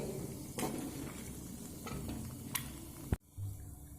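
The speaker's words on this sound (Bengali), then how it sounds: "দিয়ে দেবো একটা শুকনো লঙ্কা তো ফোড়নটা একটু ভাজা হতে দেবো" A tempering of dried red chilli and whole spices fries in oil for a soybean and chicken dish, a soft, steady sizzle with a few utensil clinks and a stirring scrape before it cuts off near the end.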